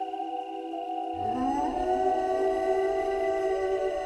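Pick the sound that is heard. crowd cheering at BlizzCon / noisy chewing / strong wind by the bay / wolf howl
wolf howl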